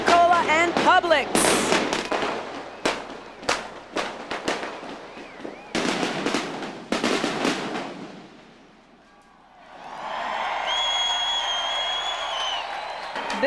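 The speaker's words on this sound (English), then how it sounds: "This fireworks show was probably the best fireworks show in the 30 years of Winterfest." Fireworks fired from a barge at a Winterfest boat parade in South Florida: a dense run of booms and crackling bursts, then a quieter gap before sustained fizzing and crackle with distant crowd noise.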